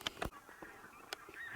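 Bean geese honk outdoors in a few short, sharp calls spaced apart, moderately distant against a quiet background, with no voices.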